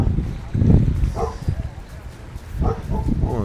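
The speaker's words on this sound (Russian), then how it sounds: "О, собака есть, гавкает." A dog barks a few times at a hotel beach in Hurghada, Egypt, in the evening, the short, moderately distant barks separated by pauses, with someone talking nearby.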